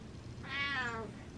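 A single clear meow from a cat, short and rising then falling, heard up close against a quiet background.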